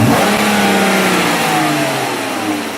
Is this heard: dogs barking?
no